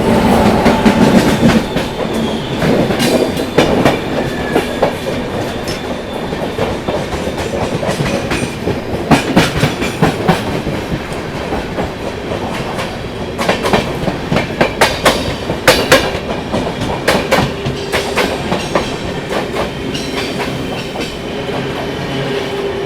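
The 12314 New Delhi–Sealdah Rajdhani Express rolls past close by, a loud sustained rumble with repeated clickety-clack wheel beats over rail joints and occasional metallic squeals, continuing for over twenty seconds with no voices.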